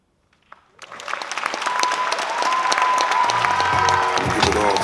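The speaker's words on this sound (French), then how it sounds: "un tonnerre d'applaudissements pour Ariel" After a brief hush, a thunder of applause erupts from the audience for Ariel at the Eloquentia Marseille final, building quickly into loud sustained clapping with cheering voices mixed in.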